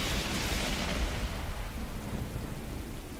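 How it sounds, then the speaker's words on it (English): Deep rolling thunder with steady rain in a video game storm scene, a loud broadband rumble that fades slightly over a few seconds, with no talking. "There was a sound like the sky ripping apart and a blinding flash of light."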